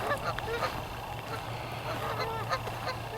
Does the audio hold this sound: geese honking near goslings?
yes